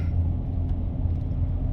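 Low, steady exhaust drone from a Dodge Challenger GT fitted with a Cherry Bomb Extreme muffler, cruising in basic mode, a continuous close rumble filling the cabin with no talk.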